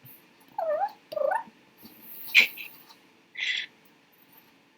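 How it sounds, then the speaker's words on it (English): Owl calls in a Dungeons & Dragons scene, a few short hooting and screeching cries spaced out over a quiet background, fairly close and clear with no talking. "Would Kova have seen the owl? Yes, she would have"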